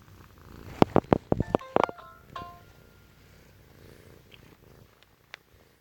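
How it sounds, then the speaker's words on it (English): A pet cat purring, apparently close up while lying on someone, with a cluster of sharp clicks and taps near the start, then a quieter low rumble with a lone tap toward the end. "She jumped up on me and is purring."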